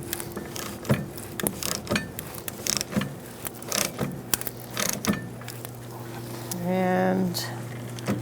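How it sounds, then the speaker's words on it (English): A nut being threaded onto a rear wheel hub bearing assembly of a 2010-2013 Kia Soul, rapid clicking ratchet bursts and metallic mechanism clatter up close, with a longer buzzing whir near the end; a voice speaks intermittently. "we're going to thread it in with our nut"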